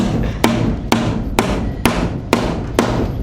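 Hammer blows while a house is being built, six sharp ringing strikes at an even, unhurried pace, each one loud and close, with a steady low background between hits.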